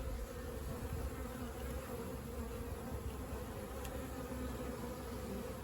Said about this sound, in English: there's probably still 50 bees buzzing around the outside of the box